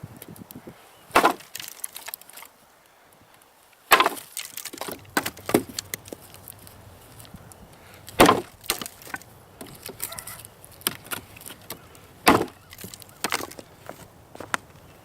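An Excalibur Gavkoo blade chops into seasoned, knotty wood: several loud, sharp strikes a few seconds apart, with smaller splintering cracks and knocks between them.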